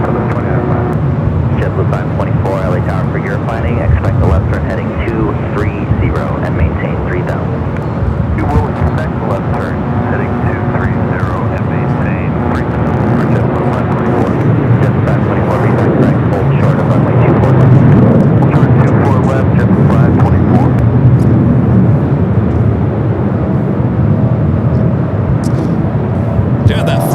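Jet airliner engines roar steadily during a takeoff run at Los Angeles International Airport, a loud continuous rumble with broadband noise that swells slightly midway, mixed with faint radio-style chatter.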